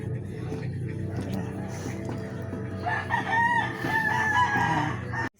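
A rooster crows loudly nearby, a long rising call in the second half, over a steady low background hum.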